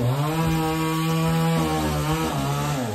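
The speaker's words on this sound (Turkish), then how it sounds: "Kesim devam ediyor." A chainsaw cuts firewood logs beside a kitchen where a concrete floor is being poured, its engine holding a loud, steady, droning buzz from start to finish with no voices.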